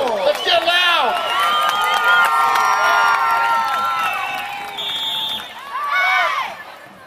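A crowd at a Fourth of July parade in Huntington Beach, California cheers, whoops and shouts loudly in rising waves, with children's high voices among them and a brief dip before a final burst.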